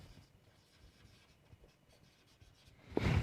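Pen scratching on paper or a board during an accounting lecture, soft and intermittent faint strokes, ending in a brief louder burst of handling noise.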